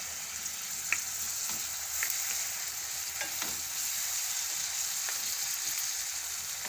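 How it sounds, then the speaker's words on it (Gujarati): Tomatoes sizzle in hot oil in a pan, a steady close hiss and crackle broken by small scattered pops, with no voices. "ટમેટાને આપણે કડીક વાર તેલમાં સડવા દઈએ"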